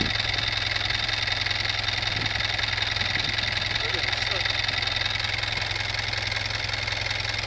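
A vehicle engine idles steadily while the driver prepares to drive out of a big hole in the ground on a rough track in Gabon. A low, constant mid-pitched rumble runs throughout, and voices talk faintly over it.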